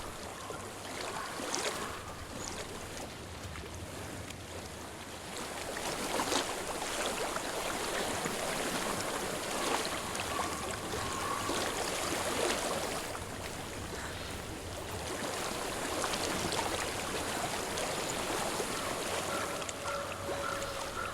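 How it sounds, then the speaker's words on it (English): Continuous rushing water in the video game Hellblade: Senua's Sacrifice flows steadily at a moderate distance, a soft, even wash with no voices. "I hear water."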